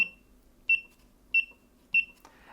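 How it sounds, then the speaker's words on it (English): Console of a LifeSpan TR1200-DT5 treadmill desk, older model with a tiny, very loud speaker, giving four short, sharp, high electronic beeps at even intervals in a quiet room, followed by a brief clatter. "The other extremely obvious thing, if you have been around it at all, is the beep."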